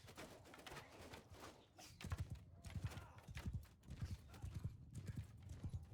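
Horse archers galloping across a battlefield in the medieval combat game Mount & Blade II: Bannerlord, their hooves drumming in a steady, loud, rhythmic clatter that builds partway through amid busy battle noise.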